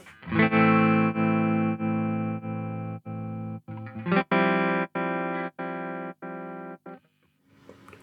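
Sustained electric guitar chords chopped into even on-off pulses by a Z.Vex Super Seek Trem stepped tremolo pedal, about ten rhythmic stutters, loud and alone, fading out at the end.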